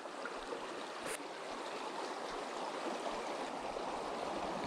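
Small Oregon creek flowing, a steady soft rushing and burbling of water, continuous and close, with no voices.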